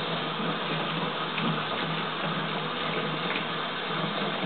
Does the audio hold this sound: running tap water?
yes